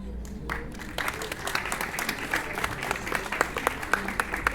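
Audience applause at a talk about Mars rovers and the Ingenuity helicopter: a steady, fairly distant wash of many hands clapping, with individual claps growing sharper toward the end.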